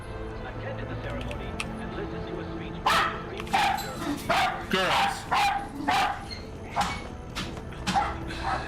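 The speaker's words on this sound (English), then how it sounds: "Sorry about the dog yapping." Several small dogs yap and bark in short repeated bursts at moderate distance, starting a few seconds in over a game's background music, with a person talking throughout.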